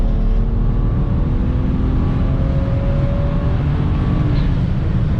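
A car with an MHD Stage 2+ E40 tune pulls hard under acceleration, its engine tone climbing steadily beneath loud, constant wind roar.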